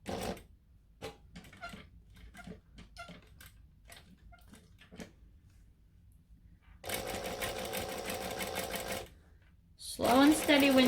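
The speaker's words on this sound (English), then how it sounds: "And then we're just going to top stitch that down." A sewing machine top stitches vinyl in a steady burst of about two seconds, after a series of soft clicks and handling sounds, and then a voice speaks.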